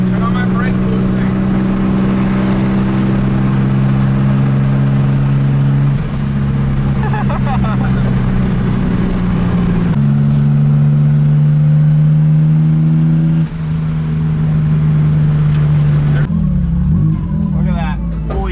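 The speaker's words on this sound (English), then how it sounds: "Check out my brake boosting." A car brake-boosting at a car meet, engine revving hard and holding high while the brake is held, in loud sustained pulls that rise and settle, with people talking over it.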